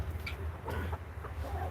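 Chickens in a backyard coop, including a Silkie hen, give soft, close clucks and murmurs in short bursts over a steady low background hum.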